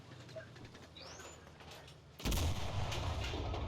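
Gunfire in the World War II shooter Enlisted, with distant shots and a whizzing near-miss over low battlefield rumble, then a sudden loud, sustained roar of heavy firing close by.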